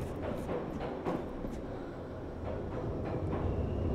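A train passing in the video game Pools, a steady low rumble with faint rhythmic clatter that holds level for the full span, no speech over it.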